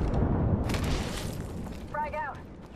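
A frag grenade goes off in the video game Apex Legends: one loud, booming blast that rumbles and fades, set over steady game noise, with a short chirping effect trailing after.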